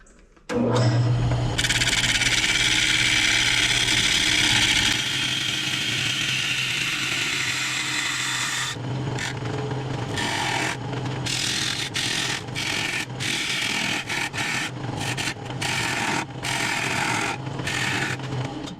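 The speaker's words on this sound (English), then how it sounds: "I'm just gonna keep on turning on and off the lathe until we see wood right here" A wood lathe spins a large salad bowl blank as a bowl gouge cuts it. A loud, continuous close mechanical whir and scraping runs first, then breaks into repeated short gaps as the lathe is switched off and on.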